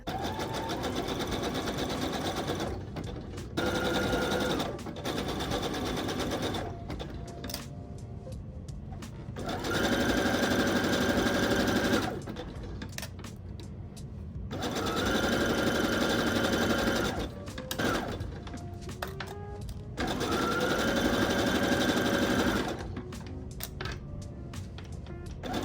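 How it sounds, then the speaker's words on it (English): A sewing machine stitches a seam in repeated bursts of rapid mechanical whirring and clatter, each run lasting a few seconds and broken by short pauses, close and moderately loud with no talking. "Take it to the machine to sew."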